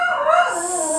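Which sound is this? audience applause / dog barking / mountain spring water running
dog barking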